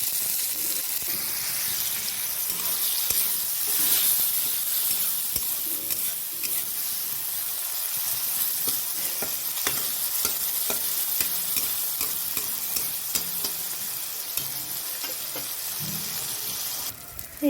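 Tomato paste and chopped tomato going into fried onions for a soybean and potato dish, sizzling steadily while a spoon stirs and scrapes the pan in irregular knocks, close and continuous for the whole stretch.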